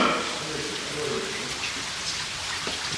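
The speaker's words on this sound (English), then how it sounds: "Yeah, it's kind of raining out here." Steady rain falls outdoors during a stormy night in Orlando, Florida, a dense continuous hiss of drops on surfaces, loud and close with no clear pauses.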